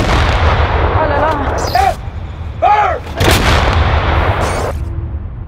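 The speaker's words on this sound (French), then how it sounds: "L'exercice de tirer le canon vient de se finir" Several heavy booming cannon blasts ring out in sequence during a military firing exercise, loud and reverberant, with muffled voices and rumbling in the background.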